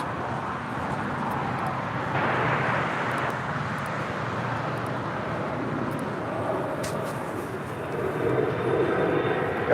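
A Spirit airliner takes off from runway 25 right at LAX, its engines a broad, loud roar that holds steady and swells slightly near the end, heard outdoors with some background rumble.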